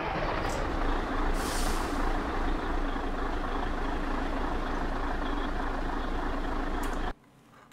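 Red Scania truck in Euro Truck Simulator 2, its engine droning steadily with air brake hisses near the start and end, then cutting off suddenly.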